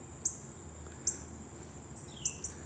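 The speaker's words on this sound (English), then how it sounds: "I hear a woodpecker out there," A woodpecker outdoors in Southeast Virginia gives three short, sharp, high-pitched calls, faint and distant over a quiet background.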